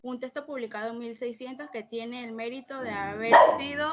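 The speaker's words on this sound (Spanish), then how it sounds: "ay, disculpen los perros" Dogs bark and yip behind someone talking continuously during an online physics class, with a louder bark burst near the end.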